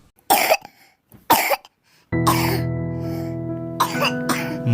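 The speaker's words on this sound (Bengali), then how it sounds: "থকথকে রক্ত মেশানো কাশি" Harsh, wet coughs in a dramatized audio story, two sharp bursts and then more coughing over a sustained droning tone that plays beneath them.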